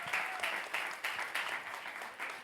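A church congregation claps in a rhythmic, pulsing beat during a Spanish-language service, the unison claps fairly faint and slightly distant, with no speech over them.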